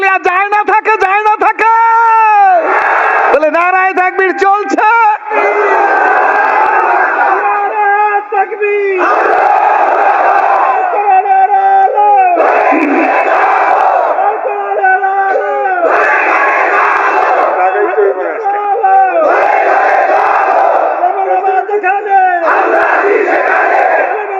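A large crowd at a religious sermon gathering chants Nara-e-Takbir in loud, repeated shouted bursts that come back in steady waves, with the voices rising and falling together throughout.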